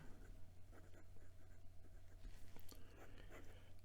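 Fountain pen nib with a little tooth scratching faintly across paper, soft irregular strokes over a steady low hum, quiet and close.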